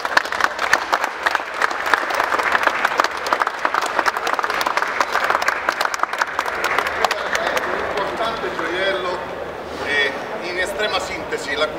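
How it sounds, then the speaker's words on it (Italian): A crowd applauds at a supercar world premiere during the Rome auto show, loud continuous clapping with scattered voices mixed in, fading toward the end as the hands slow and stop. "Applauso."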